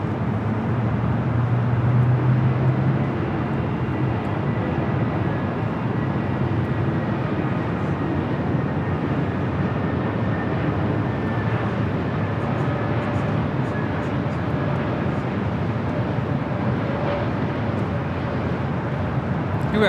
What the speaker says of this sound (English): We got Frontier 3291 coming in from Las Vegas on the A321 Neo.